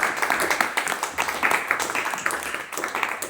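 A church congregation claps and applauds together in an irregular, dense patter of hand claps, close and lively, with voices faintly mixed in.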